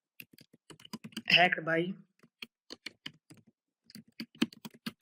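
Fast, irregular clicking of keys on a computer keyboard as JavaScript code is typed, crisp and close, with a short spoken phrase breaking in partway through before the typing carries on.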